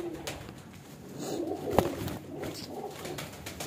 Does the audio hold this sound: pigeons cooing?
yes